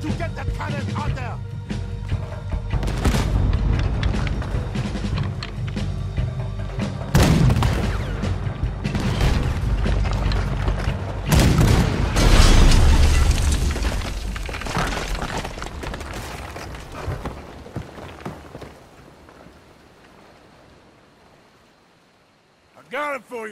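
Cannon fire booms from a ship battle in Red Dead Redemption 2, heavy blasts and crackling impacts arriving in irregular bursts amid dense game noise and voices, fading toward a quieter end.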